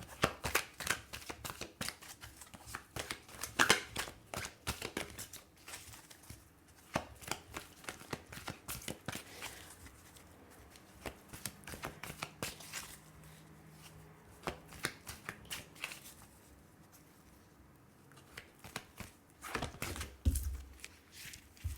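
Tarot cards are shuffled by hand in a quiet room, giving a rapid run of soft, riffling slaps and flicks that comes in repeated bursts.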